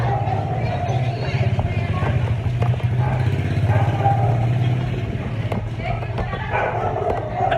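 A motorcycle pulls up outdoors at a temple stop on a rural pilgrimage route, its engine putt-putting steadily under a crowd of chattering voices.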